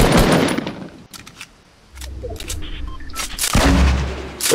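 Weapon firing in a video game: bursts of loud, sharp gunshots with a quieter gap in the middle, then more shots and heavy bursts toward the end.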